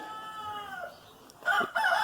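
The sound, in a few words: rooster crowing and chickens clucking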